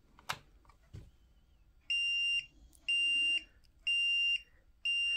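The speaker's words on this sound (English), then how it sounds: "you're going to see a blinking light and hear a beeping noise." A DOVOH KF3-360G 3x360° floor laser level gives its out-of-level warning: four loud, evenly spaced electronic beeps about half a second each, following a couple of soft clicks.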